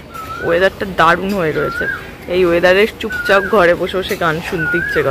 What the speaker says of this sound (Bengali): আর পাশে এরকম সুন্দর কোকিল ডাকছে।